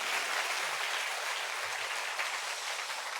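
Sustained applause from a church congregation at an evening remnant-night conference session, giving praise to God; steady, dense clapping fills the whole stretch at an even level without a break.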